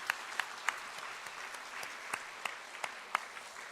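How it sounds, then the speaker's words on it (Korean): A church congregation at a New Year's Eve service claps together, a steady wash of hands with a few sharper individual claps standing out, fairly distant and moderate in level. "우리 하나님께 한번 영광의 박수를 드리지 않을까요?"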